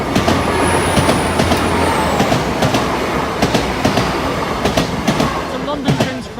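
A passenger train bound for London King's Cross via Newark Northgate thunders close past the Boultham level crossing, its wheels beating a loud, steady clickety-clack over the rails with a faint high squeal above the roar.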